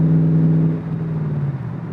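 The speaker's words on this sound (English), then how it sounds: "immediate throttle response with that naturally aspirated engine" A naturally aspirated V8 in a Factory Five Roadster Mk II Shelby Cobra replica drones loud and low, then eases off partway through as the pitch drops, with no voices.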